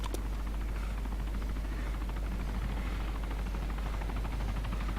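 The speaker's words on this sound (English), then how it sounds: "You see, there's a helicopter. It's another one of those Merlins" A Merlin helicopter flies in the DayZ Epoch video game, its steady rotor chop and broadband engine roar droning continuously and evenly throughout.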